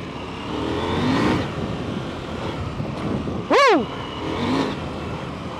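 A trail motorcycle ridden outdoors hums along with a steady engine drone and wind noise, with a brief loud rising-and-falling revving sweep near the middle; no talking is heard.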